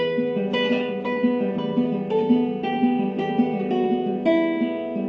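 Plucked guitar notes in a slow sequence, each note ringing into the next over a low sustained bass, clear and close with no voices.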